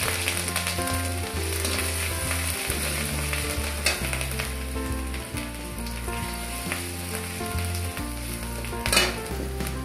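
Grated ginger and garlic hit hot oil in a pan for lauki sabzi, a steady crackling sizzle with occasional stirring clinks, no voices.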